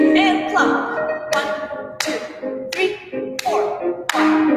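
Sharp hand claps in a ballet class, five evenly spaced claps over a sustained piano or music bed, fairly close and loud.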